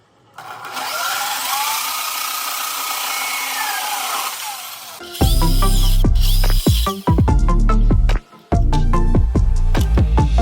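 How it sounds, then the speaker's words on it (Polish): A metal cutting machine slices through old scrap steel angle and flat bar, first a steady whirring hum, then loud grinding bursts with sharp breaks and restarts, close by and alone. "wykorzystam swoją ulubioną maszynę do cięcia"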